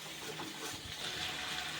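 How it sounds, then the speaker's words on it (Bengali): Hot water pours steadily into a pot of chicken curry for a short, gushing stretch, fairly close and continuous with no talking. "এবার এর মধ্যে দিয়ে দেবো আমি গরম জল।"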